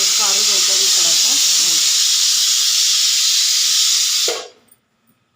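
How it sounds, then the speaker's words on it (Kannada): A pressure cooker of sambar lets out one long, loud steam whistle, a steady hissing rush that holds for about four seconds and then cuts off sharply into near silence. "ಈಗ ಸಾಂಬಾರಿಗೆ ಕೂಗಾಕತ್ತೈತಿ, ಇನ್ನೊಂದು ವಿಜಲ್ ಆಗಲಿ"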